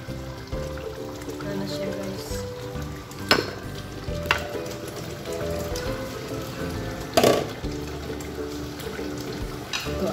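Potatoes for chicken curry fry in a pan with a constant crackling sizzle, broken by a few louder clatters from stirring.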